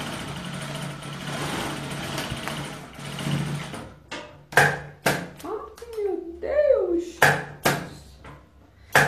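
A domestic sewing machine stitches a short seam on fabric for a manicure kit pouch, quick bursts of motor whir with pauses between them after someone talks at the start.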